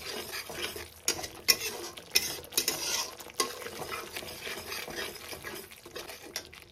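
A spoon stirs and scrapes masala with curry leaves in a pan while it fries for a small-prawn masala fry, giving steady scraping and clinking with a soft sizzle underneath and occasional sharper knocks against the metal.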